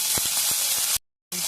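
Curry leaves drop into hot tempering oil for a wood apple chutney and crackle in a loud, spitting hiss with a few sharp pops, cut off abruptly by a short silence before the sizzling resumes.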